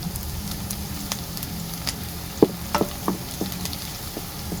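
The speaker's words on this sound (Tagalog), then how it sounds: "Gisa-gisa lang po tayo dyan" Squid sizzles as it sautés in a pan for adobong pusit, a steady close frying hiss with a few sharp utensil clinks and scrapes partway through.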